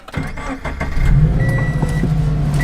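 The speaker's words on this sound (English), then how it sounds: "I'm gonna actually just leave the car on." A car engine idles with a steady low rumble close by, its note firming up after a second, with faint clicks and handling noises over it.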